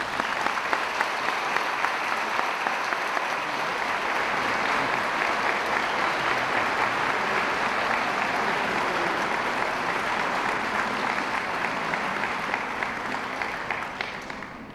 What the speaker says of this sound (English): one more round of applause for Ms. Alexi Cohen.